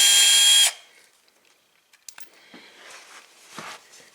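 A power tool whirs for a short burst while removing T25 screws from the air dam under a Volvo, then cuts out, followed by small scattered clicks and handling noises.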